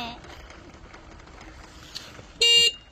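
A car horn toots once at a cyclist, a short loud blast near the end that rises clearly above quiet background chatter and road ambience.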